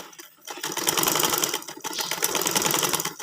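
A sewing machine stitches a trouser seam in quick, rattling bursts, a brief pause near the start, then a dense, close mechanical chatter running nearly unbroken to the end.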